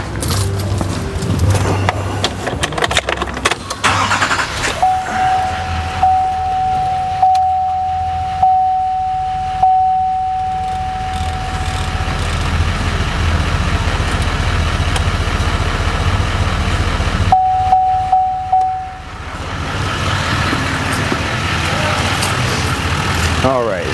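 A truck engine turns over and settles into a steady idle during work on its air conditioning, a constant low rumble with a faint whine, while someone talks throughout.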